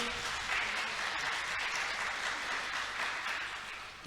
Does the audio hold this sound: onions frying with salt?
no